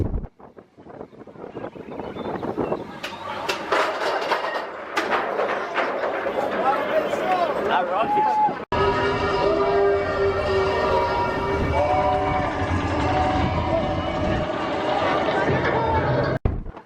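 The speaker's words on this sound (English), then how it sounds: "So when it comes to riding Expedition Everest, I like to ride the back." Expedition Everest roller coaster train at Disney's Animal Kingdom riding along the track, a steady loud rumble with rushing wind noise, broken by a sharp cut midway, with voices and faint screams mixed in.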